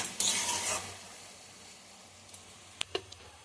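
Gajorer halwa, grated carrot cooked with ghee, stirred in a pan: a brief scraping, sizzling stir up front, then a quiet pause and a few faint clicks and taps.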